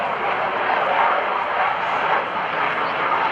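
F/A-18F Super Hornet jet at an airshow, flying slowly at low altitude with its nose pitched up; a loud, steady broadband roar holds throughout without a break, with no talk.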